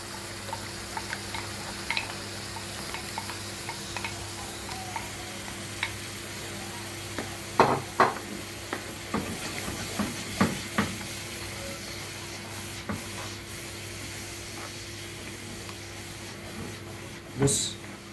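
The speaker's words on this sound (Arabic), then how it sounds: "نقلب كويس، نمكس كل الخضار مع بعض" Vegetables and sausage are stirred together in a pan for a red tomato-sauce sausage pasta, with soft scraping and intermittent utensil clinks over a low steady sizzle; no voices.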